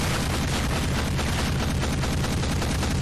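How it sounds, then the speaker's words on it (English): Dense, continuous gunfire fills a firefight in the Apex Legends video game, a loud unbroken wash of rapid shots and explosions with no pauses. "He literally just walked through gunfire."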